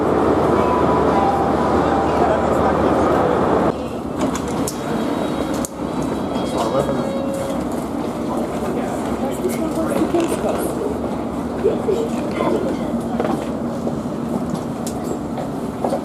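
A London Underground train at Paddington station rumbles and clatters on the rails, a loud continuous roar with rhythmic clicks and squeals as it runs, heard close from on board.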